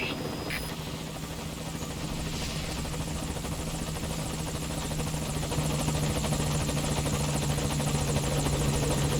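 The Morpho helicopter arrives at a landing zone in Metal Gear Solid V: Ground Zeroes with a steady, droning rotor and engine hum that builds slightly louder over several seconds, with a brief faint tone near the start.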